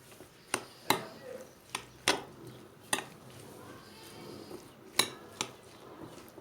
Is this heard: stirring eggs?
yes